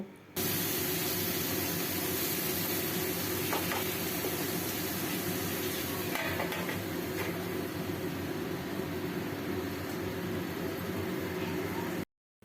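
Eggplant and tomato with turmeric cook covered in a pan over a gas flame, giving a steady, loud hiss and sizzle that holds evenly throughout with brief faint clinks, then stops abruptly at the end.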